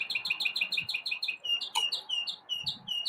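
A pet bird chirps rapidly indoors, a bright run of repeated high tweets with a brief sharper call partway through, over faint low room murmur.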